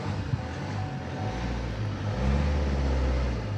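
A car engine idles steadily with a low rumble that swells slightly toward the end, with no talking.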